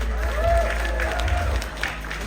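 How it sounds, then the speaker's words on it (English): A convention crowd claps in a short, steady burst of applause with some cheering, while a low hum runs underneath and voices carry faintly through it. "Round of applause for them"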